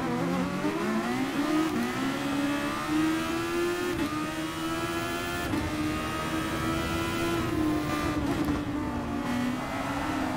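Race car engine in Gran Turismo Sport, a loud sustained high-revving drone that rises and shifts pitch as another car passes close by.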